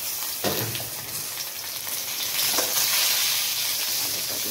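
Drumstick stalks lightly frying in a pan, a steady hiss of hot oil with a few louder sizzling bursts and faint stirring, close and unbroken.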